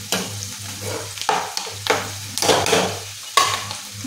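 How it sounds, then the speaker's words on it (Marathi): Onion fries in oil with garam masala powder, a constant close sizzle broken by repeated scraping stirs of a spoon every half second or so. "कांदा चांगला तांबूस कलर येईपर्यंत भाजून घ्यायचं"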